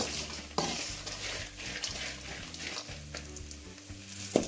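Garlic fries in hot oil after the lentils for a savory puffed-rice snack, a soft, close sizzle with a hum underneath and a few sharp clinks of a utensil against the pan.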